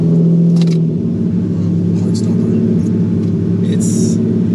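A Lamborghini Diablo's engine while driving on Angeles Crest Highway: a loud, steady low rumble that drones on without pause, heard close up from the car.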